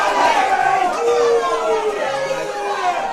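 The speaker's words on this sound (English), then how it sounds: "As you can hear, the Kilcar crowd around us aren't too happy about that now." Spectators at a Gaelic football championship match between Killybegs and Kilcar groan and call out in displeasure, a loud mixed crowd murmur and shouts rolling around nearby.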